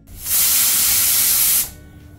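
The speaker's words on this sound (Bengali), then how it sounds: "তারপর ঢাকা দিয়ে আর একটা সিটি দিয়ে দেব" A pressure cooker of mutton vents steam in one loud, close, breathy hiss lasting about a second and a half, starting and stopping sharply with no voices.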